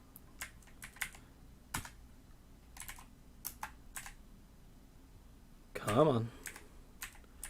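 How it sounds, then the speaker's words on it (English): Slow, separate keystrokes clack on a computer keyboard at irregular intervals, close by, with a brief spoken remark partway through. "I'm sure you can hear my keyboard, press every key very slowly."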